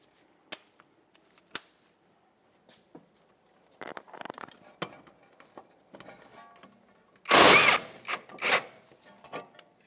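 Metallic clicks and ratcheting clatter of a 17mm wrench loosening the brake caliper bracket bolts on a 2014-2019 Toyota Corolla, sparse light taps early, then a loud burst of rattling and scraping as the bolts come free.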